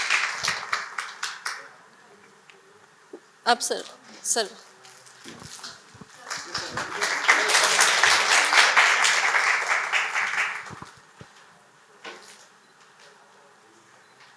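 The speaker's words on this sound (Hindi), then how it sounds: "सभी लोग तालियां बजाएंगे सर के स्वागत में" At an etiquette and table-manners session, an audience welcomes a speaker with a few scattered claps, then a fuller swell of applause for a few seconds midway, with someone talking before and after.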